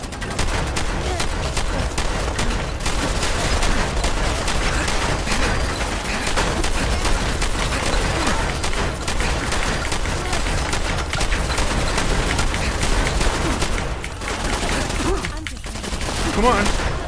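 Sustained gunfire in Fallout 4's Nuka World, with dense, unbroken volleys of rapid shots layered over each other for the whole stretch, loud and chaotic, with voices mixed in beneath.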